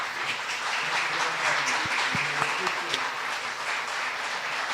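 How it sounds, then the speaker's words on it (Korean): Church congregation at a Sunday sermon giving steady, dense applause for several seconds, with a murmur of voices mixed in under the clapping. "간단한 선물과 그래서 박수를 쳐주시면"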